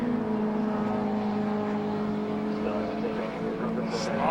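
Pre-1966 classic touring cars racing at Donington Park, a loud sustained engine howl sliding through a corner, with a commentator talking over it.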